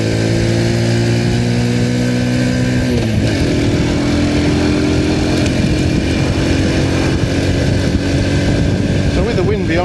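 Honda C90 motorcycle engine held at full throttle on the road, a loud steady buzzing drone with a gear change partway through and constant wind rush, the pitch climbing again toward the end.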